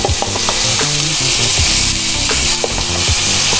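Watery garlic ginger paste sizzles loudly in hot oil in a pan for pork belly, a dense continuous frying hiss with stirring scrapes and clicks, close and steady with no talking.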